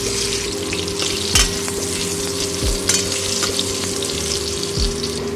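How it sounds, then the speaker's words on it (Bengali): Diced potatoes frying in the same oil used for eggs, a steady close sizzle with a few stirring knocks from the utensil, continuous for about five seconds with no talk. "ওই একই তেলের মধ্যে ডুমো করে কেটে রাখা আলু ভেজে নেব।"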